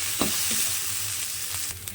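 Poha stirred and mixed with pasta masala in a pan: a steady hiss of frying under a few soft scraping strokes and light clinks, close and moderately loud, with no one speaking.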